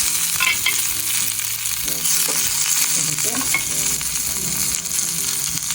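Chana dal, curry leaves and green chillies fry in hot oil with a loud, steady sizzle that continues throughout, with occasional scraping and stirring in the pan.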